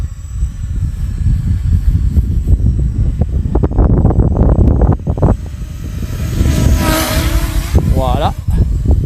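An MJX Bugs MG-1 RC car running in sport mode as it circles outdoors, its motor whine rising and falling near then farther off, under heavy wind buffeting on the microphone with occasional talk.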